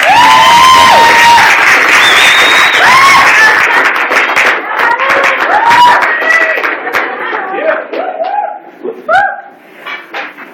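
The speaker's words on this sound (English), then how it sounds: "Let's give them a round of applause." Sustained applause and cheering from a crowd at the CHCI graduation ceremony, loud and dense throughout, with whoops and scattered shouts rising above the clapping, which thins toward the end.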